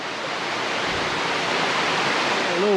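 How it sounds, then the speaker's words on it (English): Creek water rushing steadily over rocks at a trail crossing on a wooded hiking trail, a continuous broadband roar close by with no pauses. "we're back at our creek crossing here"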